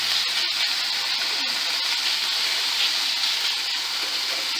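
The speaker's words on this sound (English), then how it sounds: "And we are going to cook the bacon." Bacon fries in a hot pan for cottage cheese pasta, giving off a steady, dense sizzling hiss with a few small pops and clicks, close and continuous with no voices.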